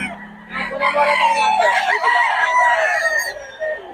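Roosters in Bocaue give a loud, close crow followed by softer clucking and calls from other fowl. There is faint background activity around them.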